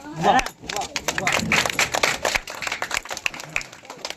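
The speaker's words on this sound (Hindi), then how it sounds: "जोरदार ताली" A live audience at a stage show with a singer in Siddharthnagar, during a birthday cake-cutting celebration, breaks into dense, fairly loud crowd clapping that follows a brief voice at the start and continues steadily to the end, with talk mixed underneath.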